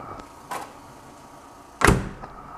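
The door of a 1930s General Electric Monitor Top refrigerator, its hinges newly repaired, gives a soft knock and then shuts with a firm thud and latch click, close by in a quiet room.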